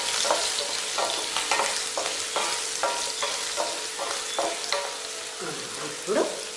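Okra with turmeric frying in a pan, a continuous bright sizzle broken by regular spatula stirring strokes about every half second, close and fairly loud.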